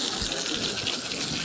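Water sprays onto a golf cart floor mat during rinsing, a steady, close hiss and gush with no break over a short stretch.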